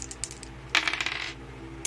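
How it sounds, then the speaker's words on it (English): Two combat dice rolled on a board game table, a rattling clatter of plastic tumbling and settling at close range, preceded by a few light taps and ending with a final click. "Let's roll our 2 combat dice here"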